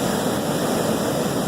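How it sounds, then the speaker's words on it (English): Steady broadband roar of ocean surf breaking on the beach at Vero Beach, Florida, continuous and loud with no voices. "The waves here are pretty good."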